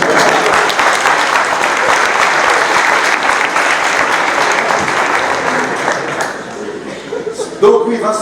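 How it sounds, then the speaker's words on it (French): Audience applause fills a room at an evening event, steady dense clapping for about six seconds before thinning into scattered claps and a few voices near the end. "On peut les applaudir."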